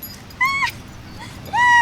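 A dog gives two short, high whimpering yips close by, separated by a brief pause, with a quiet background.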